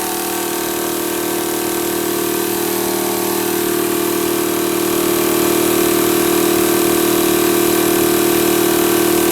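A Ridge Rider 4WD tyre pump runs alone with a loud, steady, close electric drone, holding one even tone throughout and rising slightly in level partway through.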